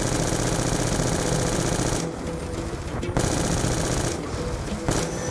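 Rapid, sustained automatic gunfire in Call of Duty: Black Ops 2, loud and continuous, broken by a couple of brief pauses between bursts.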